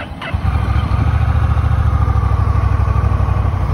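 A fully automatic cruiser motorcycle fires up with a quick crank, then settles into a loud, steady, close idle with a deep rhythmic engine throb throughout.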